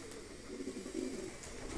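Pigeons coo softly nearby, a faint, low, murmuring call rising and falling over quiet background noise.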